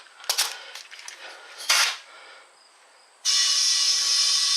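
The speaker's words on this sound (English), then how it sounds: "I'll just go ahead and shoot a burst of air in it." A burst of compressed air hisses into a tire being changed by hand, arriving as a steady, loud, bright rush after a few sharp clicks and clatters of handling, and continuing without a break.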